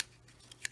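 Small scissors snip through crochet yarn while a card is made, with two quick, faint cuts close by in a quiet room.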